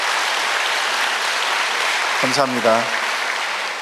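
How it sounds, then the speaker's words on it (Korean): Audience applause at a church anniversary service, a steady wash of clapping from a large crowd throughout, with someone briefly speaking over it. "영광의 박수로 감사를 표해 주시면 고맙겠습니다"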